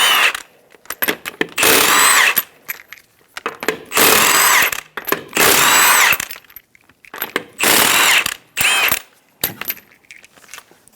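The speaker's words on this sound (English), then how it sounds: "Using a 19mm socket, remove the 5 lug nuts." A power tool with a 19mm socket removing the five wheel lug nuts on a 2010-2014 Subaru Outback: loud bursts of whirring, rattling impact spinning come in roughly five separate runs with short pauses and faint clinks between them.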